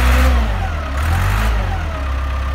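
A Gradall 542 all-terrain six-wheel telescopic forklift's diesel engine runs close by with a deep, steady rumble, rising and falling slightly as it revs.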